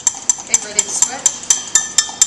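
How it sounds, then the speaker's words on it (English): A utensil stirring mayonnaise in a bowl, regular sharp clinks against the bowl about four times a second, crisp and close, with faint talk in the background. "He's going to start stirring and give me a break."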